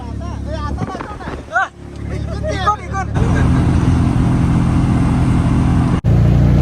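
Riding inside an auto rickshaw, the engine drones and road rumble builds to a loud steady roar as traffic passes, with people talking over the noise in the first half.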